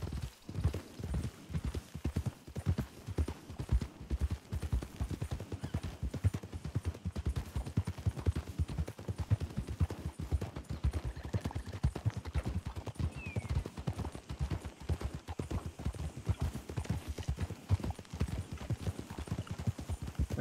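Horse hooves clip-clopping in a video game, a quick, steady rhythmic stream of hoof falls that runs continuously at moderate level throughout, with no talk over it.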